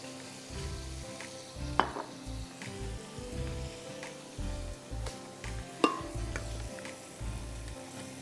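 Steady sizzling and spattering of chicken wings frying in a hot pan, with a couple of sharper clinks midway and at the end.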